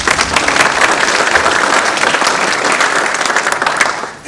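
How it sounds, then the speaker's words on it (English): Audience applause at a mayoral candidate forum, dense steady clapping from a crowd that holds for about four seconds and tapers off at the end. "You should give yourself a round of applause."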